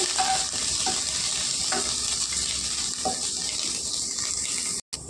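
Chopped garlic and ginger sizzle steadily in hot oil in a pan, a loud continuous frying hiss with occasional stirring scrapes and no voices.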